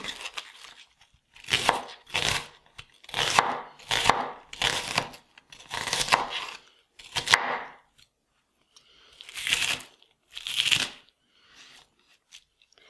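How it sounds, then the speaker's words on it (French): A knife chops a quarter of an onion on a board for falafel, giving bursts of quick crisp cuts in uneven groups with short pauses between, close and clear with no talking. "environ un quart d'oignon que je vais couper"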